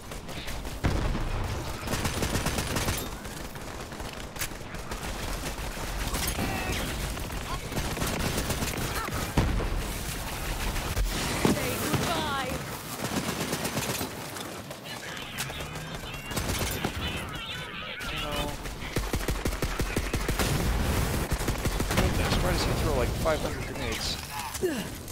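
Rapid bursts of gunfire from the video game Borderlands 3, dense and continuous for most of the stretch, with a player talking over the shooting.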